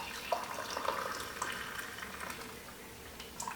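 Hot water is poured into a cup for a honey drink, giving a soft, steady trickling splash throughout with a few brief clinks, moderately quiet and close, with no talking.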